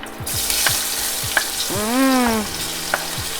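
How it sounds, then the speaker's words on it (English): Onions frying in butter for a quick vegetarian dinner, a steady broadband sizzle filling the clip with a few soft utensil taps, no one talking over it. "Some butter. I'm gonna be using some butter. I'm gonna add in the onions."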